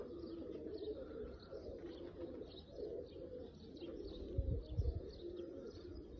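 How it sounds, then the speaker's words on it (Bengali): Oman Teddy pigeons keep up a continuous soft cooing nearby, mixed with light chirps and a brief muffled flutter or thump toward the end. "অনেক বড় পাখার কবুতর।"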